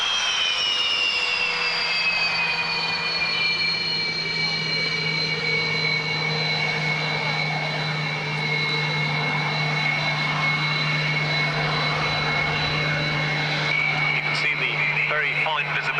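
A two-seat Sukhoi jet of some 20 tons taxis past at an airshow in bad weather, its engines giving a loud, steady whine with a low hum underneath that lasts throughout at close range.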